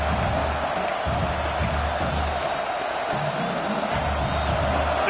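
Steady, loud roar of a stadium crowd at a college football game against Mississippi State, a continuous wash of noise without clear breaks.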